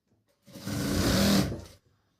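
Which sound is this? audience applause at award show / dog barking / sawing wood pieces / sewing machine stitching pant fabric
sewing machine stitching pant fabric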